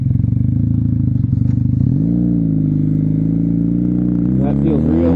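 Kawasaki KZ440 motorcycle engine idling close up, a steady low throbbing that settles to a smoother idle partway through, with a brief rise near the end and someone talking over it.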